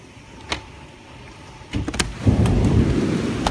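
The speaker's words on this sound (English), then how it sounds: "I see the storm rolling through. I'm like, yo, and I see it start raining." A storm in New Jersey: a sharp crack early, then rumbling bursts of thunder as heavy rain rises into a loud, steady wash close by, with no talk.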